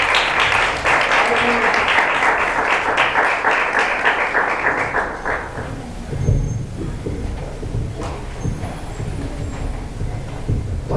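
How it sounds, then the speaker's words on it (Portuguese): A church congregation claps in praise during a worship service, a dense burst of clapping that fades out halfway through, leaving a quieter room with murmurs and low rumble. "As palmas louvam o Senhor."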